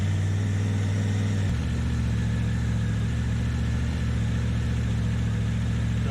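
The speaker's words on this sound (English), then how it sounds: "So that's on, and start the bike." A motorbike engine starts up and settles into a steady, continuous idle that runs close and constant, with a brief shift in tone just after it fires.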